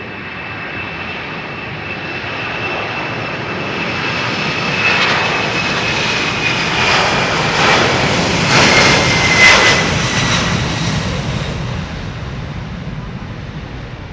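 A Boeing 767-400 with GE CF6 jet engines passes at London Heathrow runway 27R, a loud sustained roar that swells and peaks midway with a rising whine on top, heard alone throughout.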